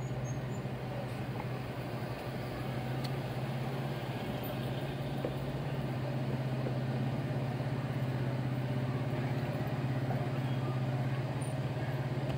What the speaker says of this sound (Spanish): el tráfico pesado porque